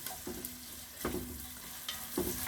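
A full finely chopped red onion cooking down in a pan for chicken stew, with a soft continuous sizzle and three spaced stirring scrapes up close, no one speaking.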